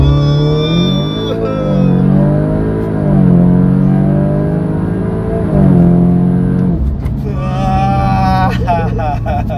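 Engine of a 400 hp Audi S3 held on the brakes before a launch, droning and rising in pitch with revs, then surging and dropping near the end, loud and close under people talking.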